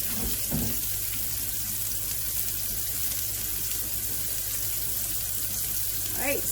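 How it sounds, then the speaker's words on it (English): A kitchen tap runs steadily into the sink while a pan is washed, making a constant close hissing stream with occasional faint clinks and splashes. "I can wash this pan now."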